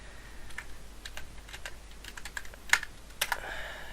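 Keys clack on a computer keyboard as a new root password is entered during an Arch Linux install, a sparse run of light taps with a few sharper strokes near the end, close and alone.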